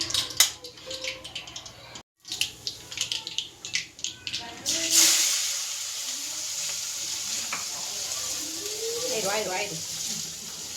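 Poha frying in hot oil in a home kitchen, a few clattering stirs and knocks at first, then a steady bright sizzle carrying on, with people talking nearby.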